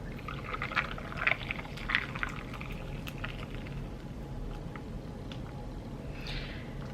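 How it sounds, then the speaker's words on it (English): Steady liquid pouring over ice, with small clinks and crackles scattered through a continuous splashing wash. "we're going to pour it over the ice."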